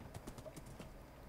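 Horse hooves clip-clop in a survival video game, a few quick, faint steps over a low steady background.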